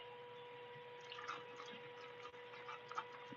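Liquid squeezed from thawed chicken inside a plastic bag: a faint, continuous wet trickle and sloshing with small drips and splashes, steady throughout against a constant low electrical hum.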